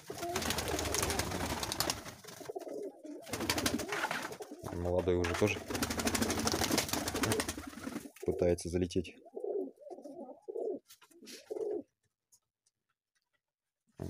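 Pigeons coo and flutter inside a backyard dovecote housing a small flock, with someone talking nearby over the birds before the sound drops away near the end.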